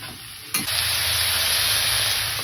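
Loud, steady sizzling of capsicum frying in a hot pan, swelling suddenly as it hits the oil.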